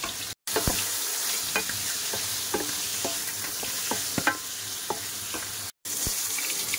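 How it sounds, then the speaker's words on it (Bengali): Potatoes being sautéed in a spiced masala in a pan, a steady close sizzle with repeated scraping stirs of a spatula, no talk. "এবারে আলু দিয়ে দেবো। আলুটা ভালোভাবে কষাই করবো।"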